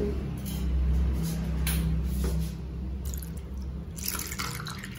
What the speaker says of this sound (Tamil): இப்போ அதுக்கு தண்ணி ஊற்றிக்கணும்